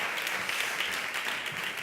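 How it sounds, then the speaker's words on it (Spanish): An audience at a leadership talk applauds speaker Carlos Escario, their clapping steady and continuous but moderately soft, heard alone with no talk over it. "Un aplauso a don Carlos"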